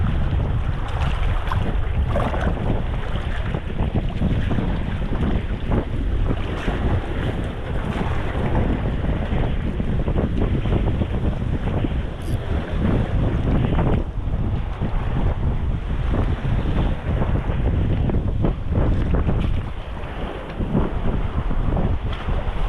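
A boat circling Karapingan Island pounds through strong waves, with a constant loud rush of wind buffeting the microphone and water surging and splashing for the whole stretch, no voices heard.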